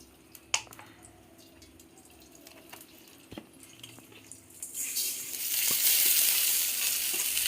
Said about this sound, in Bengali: তার চালটা আমি ঘিয়ে ভেজে নিচ্ছি